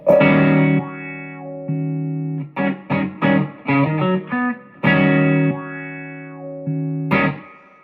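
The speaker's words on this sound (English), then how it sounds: "I have it set up with a compressor, a boost, a tube screamer, echo, and I have it set up where if I lay my foot on the wah just comes on" Electric guitar through a Victoria amp with a pedalboard of compressor, boost, tube screamer, echo and wah, playing sustained distorted notes and quick phrases with vocal-like wah sweeps and echo tails, loud and alone.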